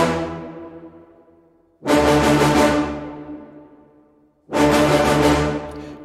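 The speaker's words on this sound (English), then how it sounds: "So let's just play the low woodwinds and the low brass." Orchestral low woodwinds and low brass sounding together in three long, loud, sustained low chords, each swelling in abruptly and decaying slowly, with nothing else playing.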